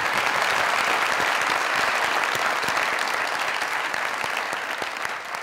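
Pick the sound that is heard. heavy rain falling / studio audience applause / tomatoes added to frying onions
studio audience applause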